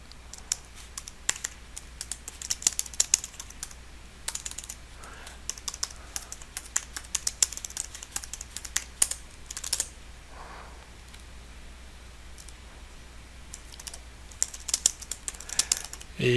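Rapid, uneven clicks of a computer keyboard being typed on while configuring a network router address, close and crisp with short pauses, and no talking.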